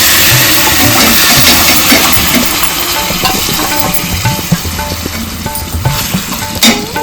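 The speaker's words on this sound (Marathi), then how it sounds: "आता आपण मटण घालून घेऊया" Cooked mutton stirred and frying in a pot for biryani, giving a loud, close, continuous sizzle with scraping stir strokes throughout and no talking.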